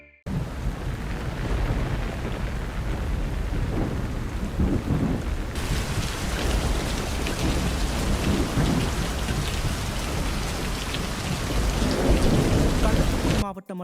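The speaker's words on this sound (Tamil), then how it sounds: "திடீரென சூறைக்காற்றுடன் கனமழை பெய்தது" Heavy night-time downpour with thunder in Tamil Nadu, a dense steady roar of rain on surfaces with low rumbling thunder underneath, intensifying partway through and continuing loud to the end.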